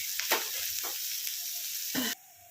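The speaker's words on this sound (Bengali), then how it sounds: "ভালো করে পেঁয়াজটা ভেজে নিয়ে আমি ফেরত আসছি" Onions fry in a little oil for matar paneer, a close, crackling sizzle with a few brighter bursts before it drops away abruptly near the end.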